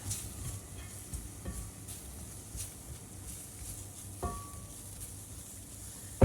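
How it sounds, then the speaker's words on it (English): Flour sizzling and frying in a pan for beef stroganoff, a soft continuous crackle with occasional spoon stirs and light clinks, fairly quiet and close. "this flour needs to be fried as well, but not too much"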